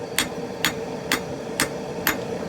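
A hot San Mai steel billet is drawn out under a straight-peen hammer after forge welding: five evenly spaced, sharp ringing blows, close and loud, about half a second apart, with no talking.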